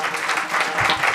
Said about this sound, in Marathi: एकदा त्या मंडळासाठी एकदा जोरदार टाळ्या वाजवा.